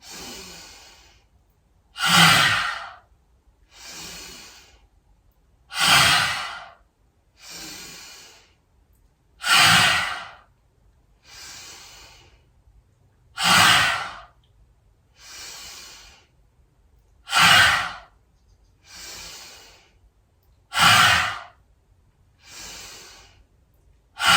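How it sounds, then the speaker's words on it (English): Deep yoga breathing repeats in a slow, even rhythm, each audible inhale followed by a longer, forceful exhale through the mouth, close and clear with quiet gaps between breaths. "Do it again, inhale. Big exhale. Do it again, inhale. Exhale. Inhale."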